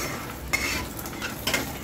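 Dry fruits such as cashews, almonds and pistachios fry in a pan for dink methi laddu, a soft sizzle broken by two quick scrapes of a stirring utensil against the metal.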